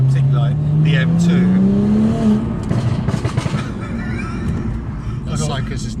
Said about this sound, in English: the noise from that 3-litre turbo is lovely